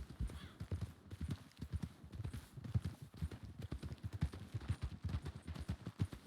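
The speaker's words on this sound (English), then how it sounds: "Alright, back up to a canter." Horse hooves canter in a video game, a steady rapid clip-clop of quiet, rhythmic hoof beats that keeps going without a break, with a faint voice now and then underneath.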